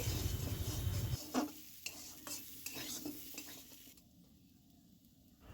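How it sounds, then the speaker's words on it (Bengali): A spatula stirs olive chutney in a pan over a gentle sizzle, with a few distinct scraping strokes against the metal before the frying quiets down. No talking. "এবার খুঁদি দিয়ে নাড়চাড়া করে সব মিশিয়ে নিচ্ছি"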